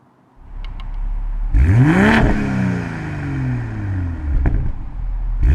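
A 2022 BMW M240i engine cranks to life with a loud startup flare, settles into a steady idle, then is revved sharply a couple of times.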